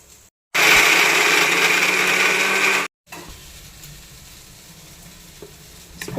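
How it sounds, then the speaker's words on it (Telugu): A kitchen mixer grinder whirs loudly for about two seconds while blending garlic, salt and chilli powder for a coconut spice powder. It then cuts off abruptly, leaving quieter handling noise after a brief silence. "ఇప్పుడు ఇదంతా మిక్సీ పట్టుకోవాలి."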